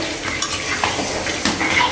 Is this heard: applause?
no